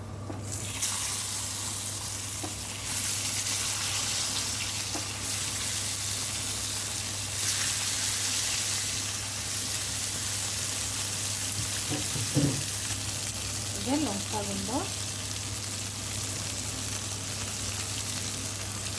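Fish pieces frying in a pan for a curry, a steady close sizzle that holds throughout, with a few faint clinks and stirring sounds near the end and no talk.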